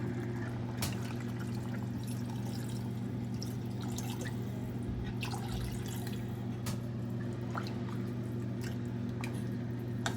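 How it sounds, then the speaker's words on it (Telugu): Water pours into chicken for haleem as a faint, steady background hum continues. Sparse small splashes and drips rise over it. "దీంట్లో అయితే ఇప్పుడు నేను వాటర్ పోసేసుకుంటాను"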